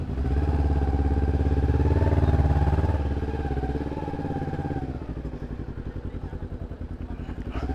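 A Kawasaki Ninja 250R streetfighter with a stock engine putters steadily on the move, its rapid even firing pulses rising briefly and then settling into a lower, choppier idle-like beat, close and moderately loud.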